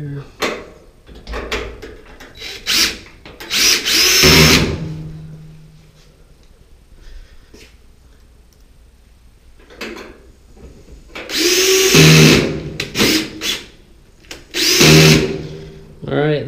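Power drill driving two screws into the panel of a Samsung DV45H7000EW/A2 dryer that is not heating, heard in three short, loud whirring bursts, with someone talking in the gaps between them.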